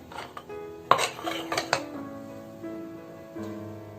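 Metal clanks and clatters as a metal idli stand is set down and shifted into an idli cooker, a few sharp knocks followed by a ringing metallic hum, close and moderately loud.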